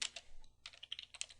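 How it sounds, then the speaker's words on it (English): Someone types ETH0 on a computer keyboard: a quick run of crisp, close key clicks in two clusters separated by a short gap, quiet and with no voices. "then we'll type in ETH0, which is the Ethernet connection,"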